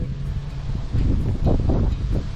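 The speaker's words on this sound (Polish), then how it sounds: "Teraz troszeczkę się uspokoił ten wiatr" Wind gusts buffet the microphone at a lake, a steady low rumbling roar with rising surges, alone with no talk.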